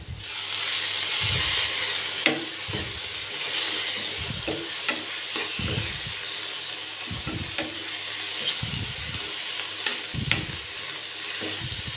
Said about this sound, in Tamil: இப்போ நல்லா கலந்துக்கலாங்க